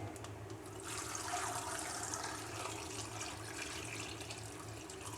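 Water runs steadily from a tap into a cooking pot, a continuous hollow gushing at close range, moderately quiet with no talk.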